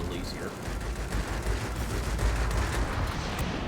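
Anti-aircraft gunfire in the flight combat game World of Warplanes: a dense, continuous rumble of rapid flak bursts with heavy low-end booms, sustained throughout at steady loudness.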